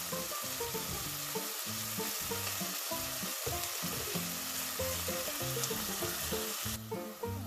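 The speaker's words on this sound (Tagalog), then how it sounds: "So tutuloy-tuloy lang natin yung pagigisa hanggang sa yung kamatis ay madurog." Tomatoes sautéing in a pan for a gourd and tomato dish: a steady, close sizzle and crackle of frying with no talking, cut through by repeated stirring scrapes at an uneven rhythm.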